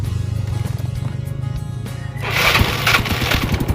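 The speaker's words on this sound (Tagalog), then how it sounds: "Pantalin natin yung motor kung kaya ba." A motorcycle engine runs with a fast, steady putter, then revs up louder and rougher partway through, close by with no talking.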